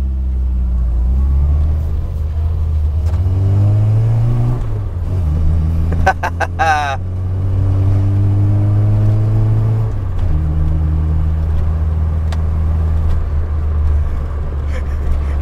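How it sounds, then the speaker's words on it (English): A small classic Metro car engine with an SU carburettor revs up and shifts through gears while driving, pitch rising and dropping repeatedly, loud and close, with a brief rattle midway. "this little car is hilarious, so we're going to have to go for the tiniest of drives up the road"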